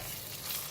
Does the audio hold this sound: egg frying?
yes